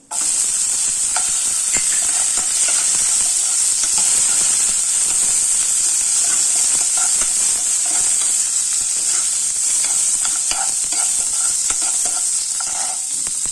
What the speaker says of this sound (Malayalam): ഇത് നമ്മള് കാഷ്നട്ട് ബദാമും മുന്തിരിയും നമ്മൾ നെയ്യിലിട്ട് വറുത്തെടുക്കാണേ